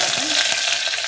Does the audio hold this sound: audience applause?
no